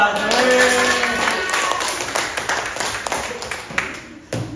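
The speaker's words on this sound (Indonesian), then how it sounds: "Tepuk tangan dulu." Audience applause at a Power BI training session at SMK Bina Mandiri Bogor, a dense burst of many hands clapping that fades toward the end, with voices mixed in.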